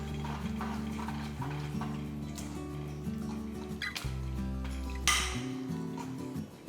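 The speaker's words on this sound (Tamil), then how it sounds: "ஆன் பண்ணிட்டு ஒரு மத்தை எடுத்துக்கலாம். எடுத்துட்டு நல்லா இந்த மாதிரி கடைஞ்சி விடலாம்." A wooden churner works cooked tomato inside a pressure cooker, giving a few knocking and scraping clatters over steady background music.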